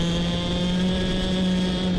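Club100 heavyweight clubman racing karts at Glan Y Gors, engines droning steadily and loudly at high revs with a sustained pitch, one kart tucked close behind another through a right-hand corner.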